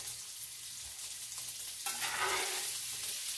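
Bacon sizzling as it sautés in a pan, a quiet frying hiss that swells suddenly partway through into a brighter, louder crackle, heard up close.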